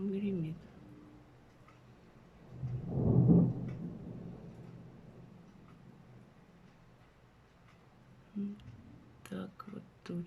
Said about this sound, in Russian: Ну, гром гремит.